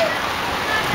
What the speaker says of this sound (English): Trying to wait out the rain.